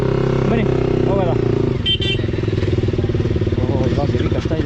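Motorcycles ridden off-road on a muddy rain-soaked track near Chikkamagaluru, engines revving loudly and continuously up close, with riders talking over the steady rumble.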